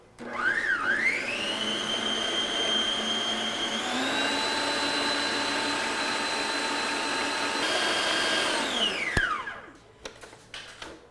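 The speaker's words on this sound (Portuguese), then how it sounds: "coloco a batedeira no máximo para ele não esquentar, certo? E a gente bate ele" A stand mixer running at maximum speed whips chilled chantilly cream with a whisk attachment. Its steady, loud motor whine rises at the start, holds evenly for about eight seconds, then winds down.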